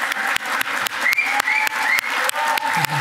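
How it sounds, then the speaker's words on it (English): Steady applause from an audience at a Humphrey Fellows graduation in 2015, a dense patter of many hands clapping close by for about three seconds with sharp individual claps standing out and no speech. "Let's just give one round of applause to the whole group"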